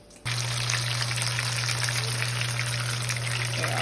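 Tacos frying in hot oil give a sudden, steady crackling sizzle that starts abruptly and stays loud and even throughout, with a constant low hum beneath it.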